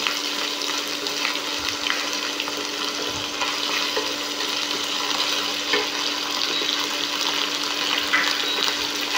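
Ginger-garlic paste frying in a pan, a steady dense sizzle that runs unbroken and fairly close throughout, with faint scraping of stirring now and then.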